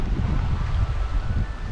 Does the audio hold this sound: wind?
yes